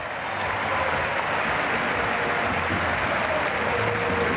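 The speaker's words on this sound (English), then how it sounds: "a huge round of applause for them" A large stadium crowd at a Barça versus Mallorca football match applauds the players, a dense, steady wall of clapping that holds loud and unbroken throughout.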